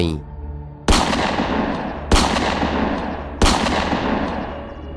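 Three loud, evenly spaced gunshots from a 5.56 mm rifle are fired at a ghost in a dramatized horror scene, each one a sharp crack followed by a long ringing decay.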